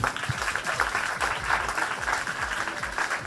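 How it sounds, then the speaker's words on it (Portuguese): An audience at a Catholic youth program in a school applauds with continuous, moderately loud clapping that holds steady throughout. "Vamos aplaudir o catecismo?"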